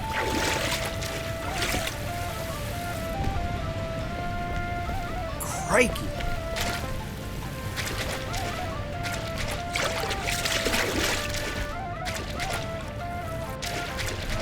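Water gushes steadily from outflow pipes in the game Enshrouded, a constant broad rushing wash that runs throughout while someone talks over it.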